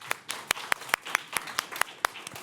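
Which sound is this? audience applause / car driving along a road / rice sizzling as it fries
audience applause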